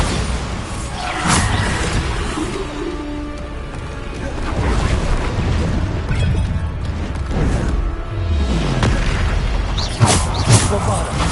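Booming Bombarda spell blasts from the Hogwarts Legacy video game, several heavy explosions over busy game-combat noise, with a voice speaking throughout.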